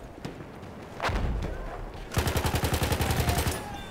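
Gunfire in the game Battlefield 1: a couple of scattered shots, then a rapid automatic burst of about a dozen evenly spaced cracks, loud and close.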